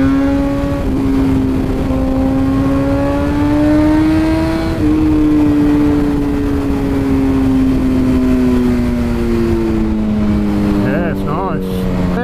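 2010 BMW S1000RR motorcycle with an Akrapovic exhaust, its loud engine note rising and falling steadily through the gears for about twelve seconds, close and continuous.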